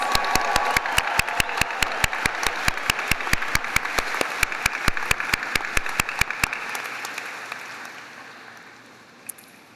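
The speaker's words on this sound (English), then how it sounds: "Let's hear a round of applause for all of these exceptional awardees." Sustained applause from a graduation ceremony audience honoring nursing awardees, dense and steady with sharp individual claps standing out near the front, then trailing off into quiet after about six seconds.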